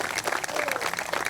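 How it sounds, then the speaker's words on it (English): Audience applause for teachers and administrators at the C.C. Winn Eagle Pass water tower ribbon-cutting ceremony, a brief dense patter of many hands with crowd noise mixed in. "Let's give them a round of applause for that, too."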